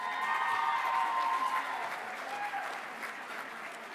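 Steady audience applause at a nursing excellence awards event, a dense wash of clapping from a large crowd, moderately loud and continuous with faint voices mixed in.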